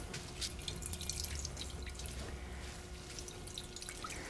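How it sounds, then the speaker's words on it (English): Vegetable juice dripping and trickling from a tightly wrung muslin cloth of cooked stock vegetables, a soft, steady wet patter heard close up with no talking. "By just putting it in the muslin and just twist, twist, twist, and wringing."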